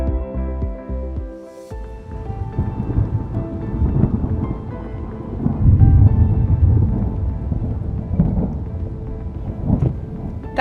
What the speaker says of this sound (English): we've got a big thunderstorm just on our port hand side